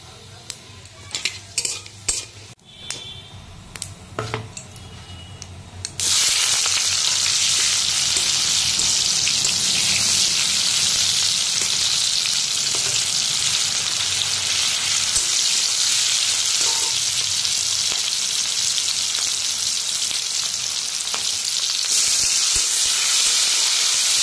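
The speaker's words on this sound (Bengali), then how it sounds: "পেঁয়াজ আর টমেটোটা লাল লাল করে ভাজা হয়ে গেছে।" Chopped onion and tomato frying in a pan: a few quiet utensil clinks and stirs at first, then a loud, steady hissing sizzle that holds to the end with no talk.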